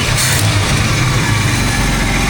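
A truck engine with exhaust leaks idles on an S10 chassis, giving a loud, steady low rumble with a rough, pulsing chug throughout and no break.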